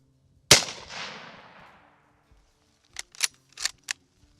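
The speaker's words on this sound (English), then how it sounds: "I'm gonna try a couple 100-yard shots and see where we're landing them." A single sharp Mosin Nagant scout rifle shot fired at a 100-yard target, cracking loud and close and then decaying over about a second, followed by a few quick metallic clicks of the bolt being worked.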